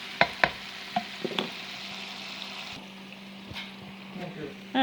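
Pork browns in a pan for green chile, a low steady sizzle under sharp utensil clicks and scrapes early on, with a brief voice near the end.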